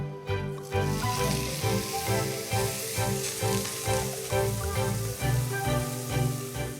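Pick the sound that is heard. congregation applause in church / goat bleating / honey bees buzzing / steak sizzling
steak sizzling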